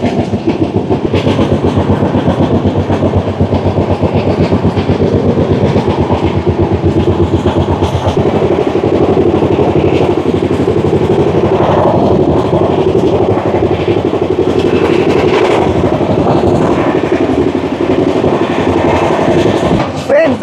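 A Shatabdi Express train rolling along at speed, as heard from inside a Vistadome coach: a steady, loud rumble of running noise with clickety-clack wheel beats, continuous for the whole stretch.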